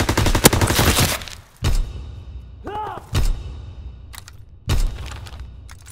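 Gunfire from Call of Duty arrives in sharp, loud bursts: a rapid volley at the start, then several separate heavy blasts spaced a second or so apart, with a brief whistling sweep between them.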